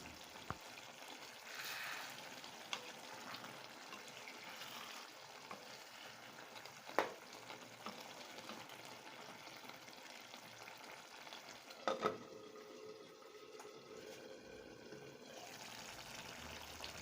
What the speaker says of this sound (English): After about a minute, I'll then add the green bell peppers. I'll also stir and cover for about